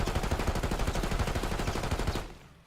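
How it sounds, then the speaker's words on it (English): Rapid automatic gunfire in a Call of Duty match, a loud continuous stream of shots pre-firing for about two seconds before cutting off abruptly into quiet. "a little bit of pre-fire coming through"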